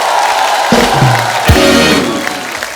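On an Indian TV comedy show, a studio audience cheers and claps, a dense wash of crowd noise with whooping voices and tonal swoops from music or effects, loud and sustained.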